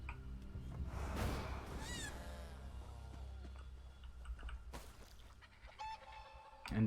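A bird in the Elder Scrolls Online video game clucking and squawking in a few short chattering bursts, fairly close, over quiet ambient game music with occasional soft chimes.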